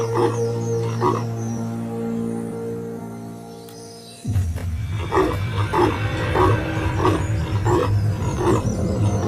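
A low rumbling growl fades out, then a lion roars in a series of deep, rhythmic grunting bursts, fairly close and loud.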